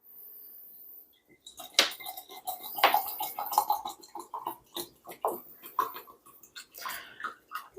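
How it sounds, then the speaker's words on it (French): Water pours into a container to top up homemade red fruit and hibiscus ginger beer, with splashing and knocking of a jar or utensil over several seconds, close and moderately loud. "Et je vais faire le complément en eau."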